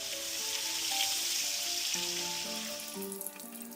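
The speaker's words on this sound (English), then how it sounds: "Generously baste the salmon to keep it moist and to help it cook." Salmon sears in a pan with butter, garlic and thyme, giving a continuous bright sizzling hiss under soft melodic background music, easing slightly toward the end.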